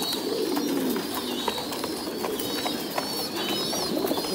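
Thai Titan meat pigeons in breeding cages give a steady, close chorus of cooing with soft overlapping calls and no talk.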